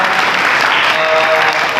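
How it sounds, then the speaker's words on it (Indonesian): A church congregation at a Pentecost Sunday worship service claps together in a dense, continuous burst of applause. It stays loud and close for the whole short moment. "kita berikan dulu tepuk tangan bagi Tuhan"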